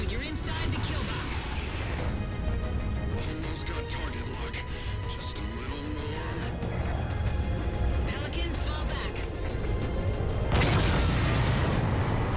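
In the Halo 4 video game, a Pelican dropship goes down amid loud booms, crashes and weapon fire in a dense battle soundscape, with a voice talking over the chaos.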